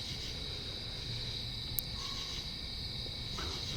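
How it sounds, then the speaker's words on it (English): Crickets and other insects chirp steadily in the woods outdoors, a constant high shimmering drone at low volume with a few faint clicks and no voices. "bugs are going crazy"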